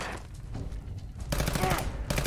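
Gunfire rings out in the video game Fallout 4, with a scattered, muffled opening giving way to a louder, rapid burst of repeated shots near the end.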